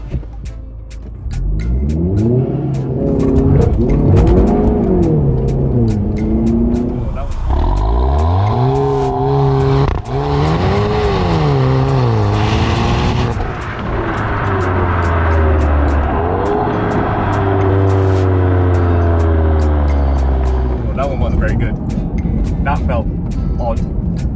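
An Audi TT Mk3 pulling away under launch control on soaking wet tyres that struggle for grip, its engine revving hard and rising through repeated sweeps over about twenty seconds, loud and close, with voices talking over it.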